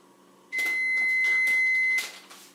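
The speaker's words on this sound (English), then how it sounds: "Did our timer go off yet?" A kitchen timer gives one long, loud, steady electronic beep for about a second and a half while Christmas cookies bake, then stops, with faint room noise before and after.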